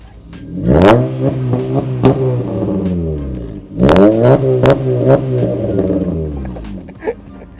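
Two strong revs from a 2017 Honda City project car engine, each rising sharply then winding down, close and loud, with a popping crackle near the end.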